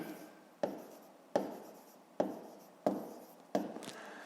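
Pen strokes for a fifth-grade math solution sound close and quiet against paper, as five evenly spaced taps that each trail off into a short scratch, with no talking.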